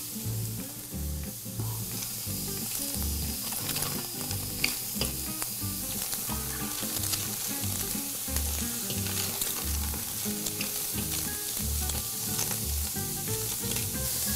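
Carrots and celery sizzling in a pan with no fat, a steady crackling fry with scattered pops and soft stirring, moderately close and alone.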